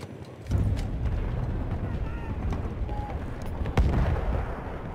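Heavy dreadnought battleship guns firing during a beach assault in Battlefield 1, a dense rumbling barrage with one sharp loud blast near the end, and faint voices in the background.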